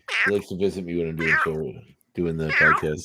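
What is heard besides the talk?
cat meowing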